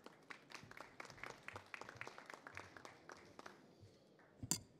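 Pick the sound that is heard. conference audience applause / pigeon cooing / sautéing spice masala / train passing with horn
conference audience applause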